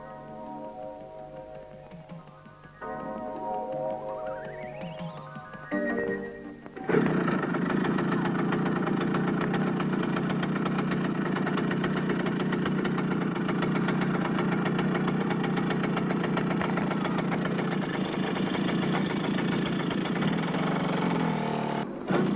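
A Romet moped engine idles steadily and fairly close, a continuous rattling drone after some quieter mechanical sounds at the start.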